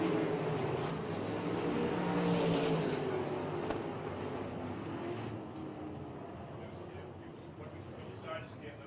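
Sprint cars race off turn four at Port Royal Speedway, a loud, dense engine roar that swells and then fades slightly as they pass, with an announcer talking over it.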